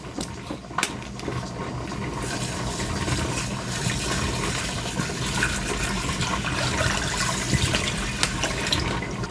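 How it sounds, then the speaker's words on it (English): Water from a bottle pours into a pot of rice and seasoning mix, a steady splashing stream filling the pot for several seconds, close and fairly loud with no talking. "And then I'm going to add in the bottle of water."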